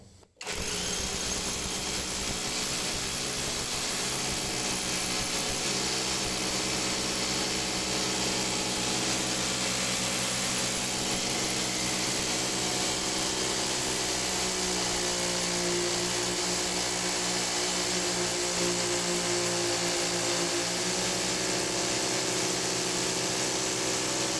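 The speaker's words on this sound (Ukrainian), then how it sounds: "Бетонна перемичка, два перфоратора" Continuous loud grinding roar of two rotary hammers boring into a concrete lintel, running without pause from start to finish, close by.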